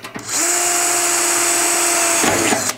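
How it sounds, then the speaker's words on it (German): A power drill whirs steadily at high pitch for a couple of seconds, close by, starting and stopping abruptly. "Dann bohren wir da irgendwo in der Mitte noch mal eins."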